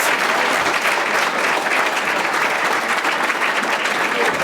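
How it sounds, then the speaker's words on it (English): Loud, sustained audience applause fills the room at a Shakespeare 400 event in Chicago, a dense, steady wash of many hands clapping without a break. "Give me a round of applause"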